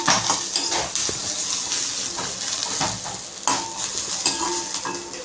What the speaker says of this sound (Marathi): आपण चांगलं याच्यामध्ये ते फ्राय करून घेऊ